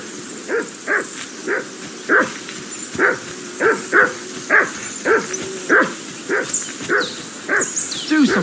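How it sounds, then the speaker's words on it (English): A dog in the medieval game Kingdom Come: Deliverance II barks repeatedly in a steady rhythm of loud, close yaps, about fourteen in a row, over faint background ambience. "Call off that damn dog!"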